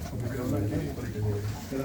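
Teddy pigeons coo in low, rolling murmurs at a pigeon market, heard under nearly continuous nearby talk.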